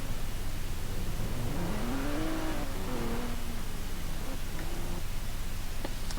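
A gendarmerie 4x4 vehicle in the Roblox game revs its engine, the pitch rising and falling over a constant hiss, loud and close with no talking.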